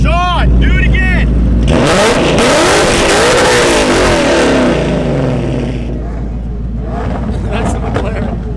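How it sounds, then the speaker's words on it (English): A tuned McLaren 650S with downpipes revs hard nearby, a loud rising and falling engine roar that lingers into a lower rumble, with people talking over and around it. "That's the McLaren 650S, which is also downpipe and tuned, so that thing's crazy fast."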